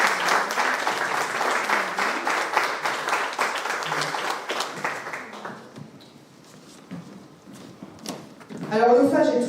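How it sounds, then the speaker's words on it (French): At a town twinning ceremony an audience applauds the youth municipal council, a round of clapping that thins out and fades, followed by quiet and then a voice speaking. "Oui, on peut les applaudir."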